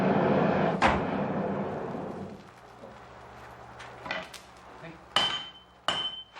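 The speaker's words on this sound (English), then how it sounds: "Hammering gradually draws the metals out into a single long blade." Steel is hammered to forge a Japanese sword blade: a handful of sharp metallic strikes land at irregular intervals, moderately loud and close, with quieter ringing and faint clatter between them.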